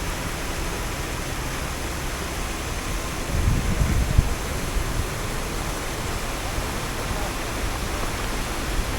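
Water rushes under strong pressure through the Sandhan Valley gorge during rainy weather, a constant loud roar of broadband noise that swells slightly midway.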